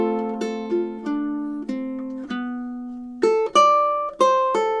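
Ukulele picks a melody across its pickup bar and first measures, with a series of bright plucked notes, lower ones first and then a jump to higher notes near the end, played close and alone.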